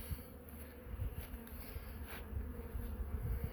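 Honeybees buzz around a hive frame pulled out for shaking bees off to crush small hive beetles; a quiet, continuous droning hum with no talking.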